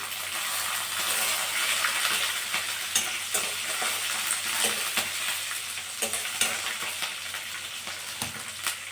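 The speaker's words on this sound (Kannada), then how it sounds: "ಒಣಮೆಣಸಿನ್ಕಾಯಿ ಈ ರೀತಿ ಎಣ್ಣೆ ಸ್ವಲ್ಪ ಹಿಂಗೆ ಬಾಡಿಸ್ಬಿಟ್ಟು ನಂತರ ಇದಕ್ಕೆ ಹಸಿರು ಮೆಣಸಿನ್ಕಾಯಿ ಹಾಕಿ" Dry red chilies frying in a little oil in a pan, a steady close sizzle with faint stirring scrapes running throughout, with no voices.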